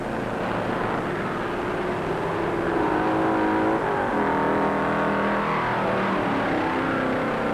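1958 stock race cars roar around the north turn of the Daytona Beach course, loud continuous engine drone with shifting pitch as cars pass close by, no voices over it.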